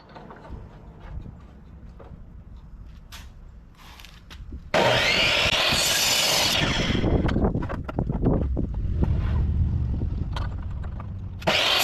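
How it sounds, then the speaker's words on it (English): Loud, steady roar of strong wind buffeting outdoors in a garden, rising sharply partway through and continuing without letup, with faint scraping and clatter of blowing sawdust underneath. "It's incredibly windy."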